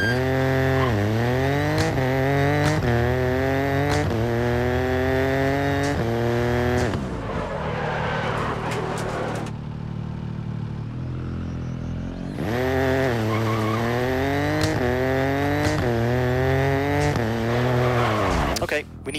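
A rally car in EA Sports WRC accelerates hard toward a coned turn, engine climbing through gears with loud rising whines, dropping to a brief lull mid-turn, then revving up again strongly.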